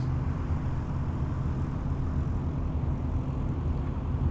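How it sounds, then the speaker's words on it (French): A steady, low airplane engine drone holds throughout as the plane taxis toward takeoff, with no pauses or voices. "L'avion est déjà sur la route de décollage."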